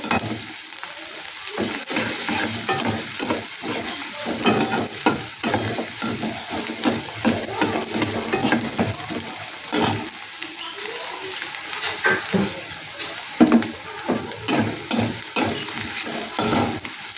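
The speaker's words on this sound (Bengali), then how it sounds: "পেঁয়াজটা একটু ভাজা ভাজা করে নেব।" Onion fries in a pan with a continuous close sizzle and crackle, broken by repeated scraping stirs throughout.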